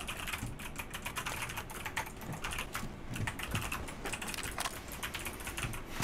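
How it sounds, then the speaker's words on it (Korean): Rapid, continuous clacking of a computer keyboard during a PUBG game session, keys tapped in quick irregular bursts close to the listener. "키보드 소리도 그래, 너무 많이 나는데"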